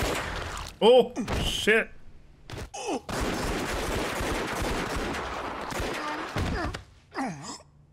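In Yakuza Kiwami 2, a burst of gunfire fills the middle seconds with a long, dense stream of rapid shots, framed by short game voice lines and a man's brief exclamation.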